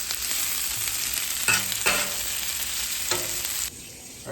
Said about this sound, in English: now we're going to throw the meat on just to warm it up briefly